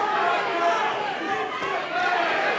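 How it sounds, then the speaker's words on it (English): A packed arena crowd at a fight between Tim Atonio and Max Webster roars in a continuous, dense wash of cheering and chatter, loud and sustained throughout. "Oh, the crowd now absolutely getting into this fight,"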